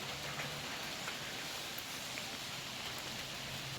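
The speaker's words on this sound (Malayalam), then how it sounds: "നല്ല മഴ പെയ്തുകൊണ്ടിരിക്കുകയാണ് കേട്ടോ" Dense, steady hiss of heavy rain pouring down on surfaces, constant and enveloping, with no voices.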